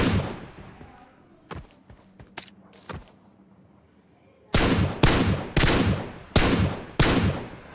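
Gunfire in a shooter video game: scattered single shots and footsteps at first, then a fast run of five or six loud, heavy shots close by.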